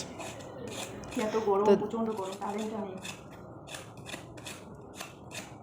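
Vegetables being cut by hand during home cooking, a steady series of crisp cutting strokes close by, with a voice talking over the first half.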